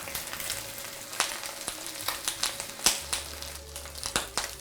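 A sea bream fillet fries skin-side down in hot oil, giving a continuous close sizzle broken by sharp crackling pops and spits, with no one talking.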